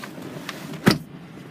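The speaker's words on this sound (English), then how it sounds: "Electric windows on the back. Electric windows on the front." Electric windows on a Volkswagen 3.0 V6 TDI turbo diesel R-Line, a short motor whir heard from inside the car, followed by a firm thump as the glass stops, then quiet.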